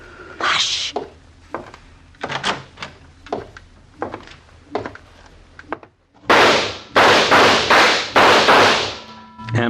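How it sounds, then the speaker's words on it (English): A radio drama effect of machine gun fire spraying a fortress: soft scattered thuds, a brief hush, then a string of loud, close, evenly spaced bursts of gunfire. "The Trotsky fortress was sprayed with machine gun fire."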